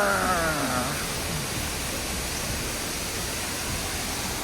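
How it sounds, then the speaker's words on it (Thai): A waterfall at a campsite near Thap Lan, Thailand, roars as a steady, dense rush of falling water that stays even throughout, with a faint tone fading out at the start. "น้ำตกมาก"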